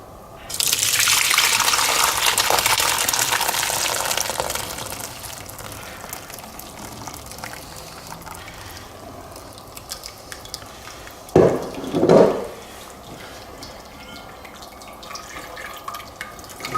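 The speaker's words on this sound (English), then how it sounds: "I'm going to strain it through the sieve. To get rid of the excess liquid." Cooked pinto beans for refried beans are poured into a sieve, and a loud rush of draining liquid runs for about four seconds before tapering into quieter dripping. Two short splashes follow near the end.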